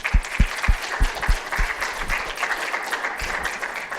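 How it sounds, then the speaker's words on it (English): Audience applause at the 2015 RJI Student Competition awards ceremony, a steady wash of clapping from a crowded room lasting the whole stretch with no talk over it. "Give them a round of applause for that,"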